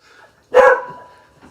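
A single dog gives one sharp, loud bark close by, its sound trailing off briefly before near quiet returns.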